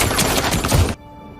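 A dense burst of automatic gunfire from a group of gunmen, loud and close, rattling continuously for about a second before cutting off abruptly to near silence.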